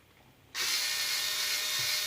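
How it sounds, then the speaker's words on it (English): A power screwdriver drives a fine-threaded screw into the carbon graphite radio tray of a Hobao Hyper VS nitro RC car. After half a second of near-silence, a loud steady whirr begins and holds to the end. "just be careful when you're screwing into carbon"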